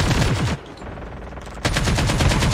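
Rapid automatic gunfire in a Call of Duty Mobile battle, loud close bursts of tightly spaced shots that break off briefly and then resume.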